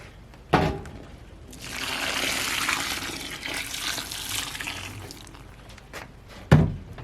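Water pours steadily into a manual laundry container already holding four shirts, a broad rushing splash lasting several seconds between two sharp knocks, with no talk, at an off-grid home.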